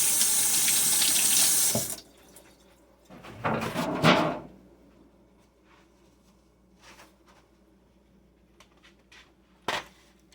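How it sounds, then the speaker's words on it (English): A kitchen faucet runs for about two seconds, then water splashes as hands are rinsed, followed by quiet clatters and a sharp knock near the end. "rinse my hands off"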